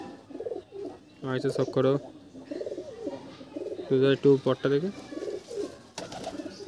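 Dhille pigeons, a Kolkata collection, coo in soft bursts close by while someone talks over and between the calls.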